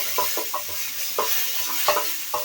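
Potato bhaji sizzling in a pan while being stirred, a steady frying hiss broken by repeated scraping strokes of a utensil at a loose rhythm, close up and with no talking.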